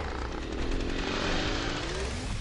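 A chainsaw wielded by an enemy in Killing Floor 2 drones loud and steady at close range, a continuous buzzing motor roar with a slight pitch rise.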